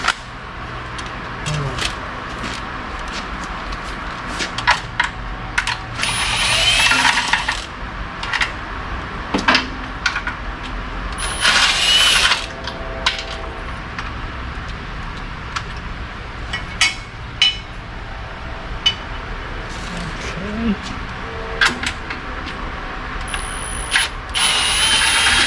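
A cordless impact wrench runs on bolts during a 4L80E transmission swap on a Chevy C-10 truck, firing two or three longer hammering bursts amid scattered clanks and tool rattles in a workshop.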